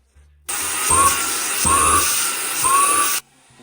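A Jimmy PW11 Pro nozzle used as a small handheld vacuum cleaner whirs on close up, a steady high motor drone with a few rising pitch swells before switching off.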